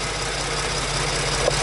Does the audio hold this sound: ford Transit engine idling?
yes